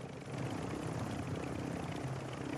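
Helicopter in the video game Call of Duty Warzone, a steady rotor thump and engine roar that holds level throughout, close and continuous with no speech over it.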